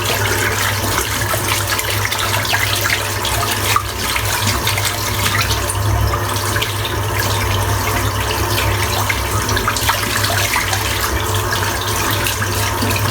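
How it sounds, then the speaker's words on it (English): A shaving brush, a 28mm three-band blonde badger knot, rinsed under a running tap: a steady, loud rush of water splashing continuously throughout, with no speech. "I'll give that a good rinse out"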